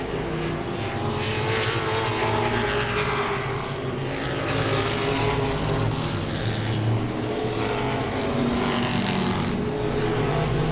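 Modified race cars roar around Langley Speedway in a dense, continuous pack, engines loud and close, with a steady droning wash of several cars passing throughout.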